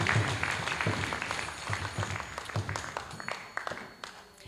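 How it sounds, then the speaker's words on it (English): Audience applause at a graduation ceremony for a Bhaktivedanta College of Education and Culture class, a steady patter of many hands clapping indoors, fairly faint and fading toward the end with no speech over it. "A round of applause for His Grace Smita Krishna Das Prabhu."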